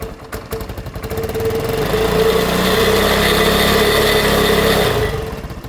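An engine idles roughly, then revs up and holds at a higher steady pitch for a few seconds before dropping back down; close and loud.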